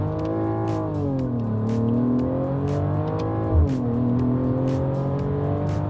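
Mercedes-AMG GLE 53 in sport plus mode with the exhaust open, engine revving and rising and falling in pitch as it downshifts in manual, loud and steady with no talking.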